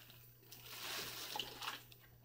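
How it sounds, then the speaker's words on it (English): Twenty-five millilitres of warm water pours from a container into a slime-kit bowl on a kitchen table, a soft close splashing trickle of a couple of seconds under a faint steady hum. "And then you add your 25 milliliters of warm water in there."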